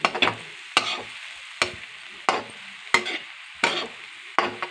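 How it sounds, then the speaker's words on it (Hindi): Poha flakes being stirred in a pan, with distinct scraping strokes about once every second or two, each a short burst of dry rustle over faint background sizzle; no talking. "अब इसको हम अच्छे से स्टर करेंगे, धीरे धीरे इनको मिलाएंगे।"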